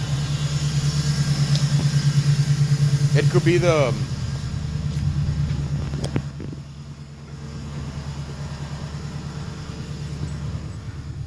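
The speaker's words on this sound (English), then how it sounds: "Yeah, it's revving up high too." A car engine with a freshly fixed exhaust runs at a steady, elevated idle around 1,200 rpm that won't drop, then eases slightly while people talk over it nearby.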